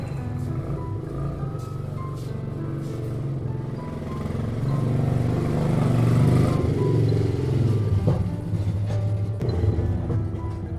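A motorcycle approaches along a road, its engine droning steadily and swelling louder as it draws near, then settling into a rough idle with no one speaking.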